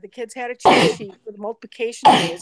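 A person sneezes twice, loud and close, each sharp burst breaking into ongoing talk from a speaker.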